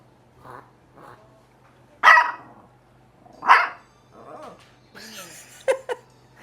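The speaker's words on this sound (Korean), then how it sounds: "별이 진짜 많이 짖는다" A dog named Byeol barks several times in sharp, separate yaps with short whimpering sounds between them, close by in a quiet room, with brief soft talking mixed in.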